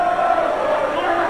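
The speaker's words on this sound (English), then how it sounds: "The crowd trying to cheer Sharkboy on somehow," Wrestling crowd at a TNA event cheering Sharkboy on, a steady roar of many voices with a sustained shout running through, loud and continuous throughout.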